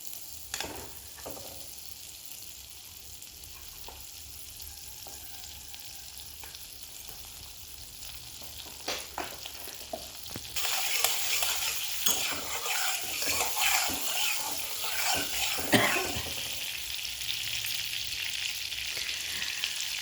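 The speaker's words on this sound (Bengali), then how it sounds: "কড়াই গরম হলে এর মধ্যে দিয়ে দিচ্ছি 1 চামচ পরিমাণ বাটার" A spoonful of butter goes into a hot kadai over a gas flame. After a quiet stretch of faint clinks and handling, a loud, crackling sizzle bursts in and keeps going, with occasional stirring knocks.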